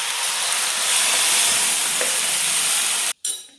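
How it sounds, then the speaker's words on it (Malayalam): Beaten curd poured into a hot tempering of mustard seeds, two dried red chillies and curry leaves sets off a loud, steady sizzle that runs for about three seconds, then cuts off abruptly before a brief fainter hiss returns. "ഇതിലേക്ക് നമ്മൾ അടിച്ചു വെച്ച തൈരില്ലേ അത് ചേർത്ത് കൊടുക്കാം"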